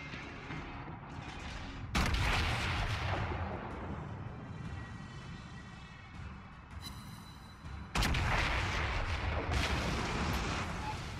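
Battleship South Carolina's main guns fire in World of Warships, giving two heavy booming salvos several seconds apart that roll out into a long rumble over steady engine and sea noise.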